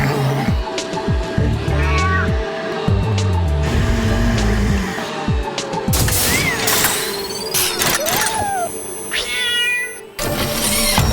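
A cat meows repeatedly and insistently, close and loud, over clattering household noise and the mechanical sounds of a Roomba robotic floor vacuum.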